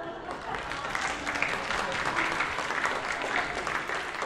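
Congregation applauding during a church service at a United Methodist church, a steady wash of many hands clapping that holds at an even level for several seconds.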